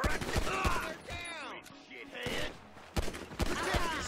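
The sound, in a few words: gunfire in video game GTA 5 Online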